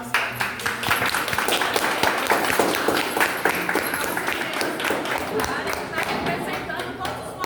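A community gathering breaks into a round of applause, sustained mixed clapping from a group of people with voices mixed in.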